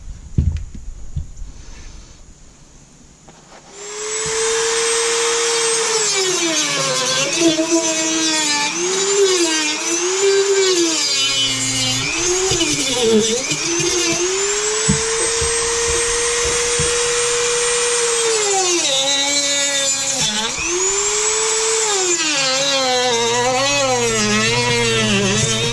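A cutoff wheel power tool cuts during a Camaro tail light install, a loud, close, sustained high whine with shifting pitch as the wheel bites, lasting over twenty seconds after a quiet start.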